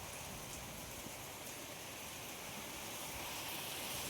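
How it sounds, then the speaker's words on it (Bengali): Heavy rain from a nor'wester storm pours down in a dense, even roar that stays constant throughout, with no voices. "ভীষণ বৃষ্টি হচ্ছে, ভীষণ বৃষ্টি হচ্ছে"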